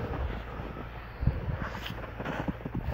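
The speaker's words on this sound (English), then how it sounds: "You can hear the air blowing through it" Air from a Koenders HD 450 aeration pump hisses and rushes softly through an air stone, producing a faint, continuous airy whoosh with a few small bumps.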